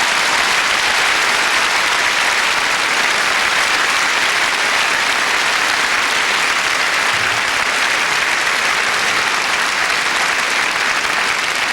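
Prolonged crowd applause at the 1989 Brighton tennis final after Seles takes a set 7–5, a dense, steady roar of clapping filling the whole stretch at high volume without letting up.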